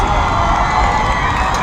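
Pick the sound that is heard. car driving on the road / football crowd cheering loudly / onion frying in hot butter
football crowd cheering loudly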